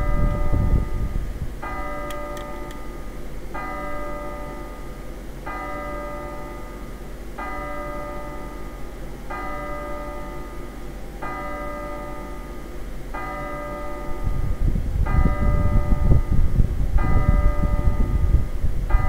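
Church bell tolling in the video game MapleStory, a steady repeating chime with clear ringing tones struck about every second and a half, loud and continuous, joined near the end by a louder rumbling background.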